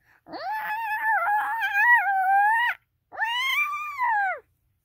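A person imitates a cat with a long, drawn-out yowling meow followed by a shorter second one, loud and close.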